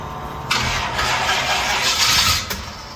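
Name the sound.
1940 Ford engine cranking on first start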